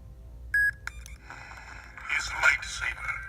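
Infinium 2.0 lightsaber hilt switching to a speeder bike sound font: a short electronic beep and click, then a brief whooshing, buzzing ignition with rising hum, fairly quiet.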